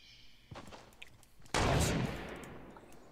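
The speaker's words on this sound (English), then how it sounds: "Is that you shooting or them?" Fortnite gunfire: a faint shot, then a louder, close burst of firing that decays into a rumbling tail.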